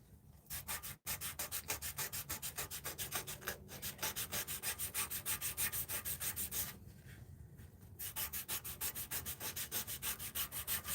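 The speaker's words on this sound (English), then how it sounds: "it's not a lot of sanding." Wood spinning on a lathe is sanded by hand, a close, rhythmic rubbing rasp pulsing evenly for the whole stretch, with one brief break near the start and a softer patch later.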